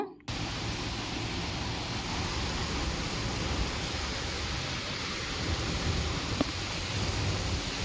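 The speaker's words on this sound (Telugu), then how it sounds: "చూడండి ఎలా వర్షం వస్తుందో" Heavy rain falls in front of a house in Tadipatri, a loud, unbroken roaring wash that starts abruptly and holds steady throughout, with no voices.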